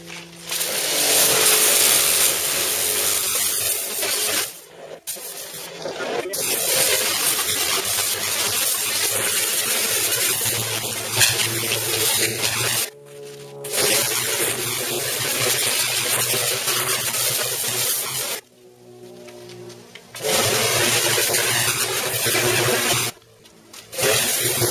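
A pressure washer (Karcher) runs loudly and steadily as a harsh, broadband hiss with a low motor drone, cutting out briefly a few times before starting again, washing a motor mower.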